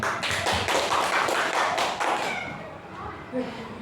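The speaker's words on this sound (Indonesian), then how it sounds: "Tepuk tangan dulu buat kita sendiri lah." A group claps hands together in a burst of rapid, fairly close applause that fades out after a couple of seconds, with a little room noise trailing behind.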